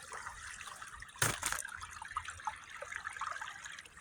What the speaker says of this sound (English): And so now all this water now flows down the spillway that's covered in rocks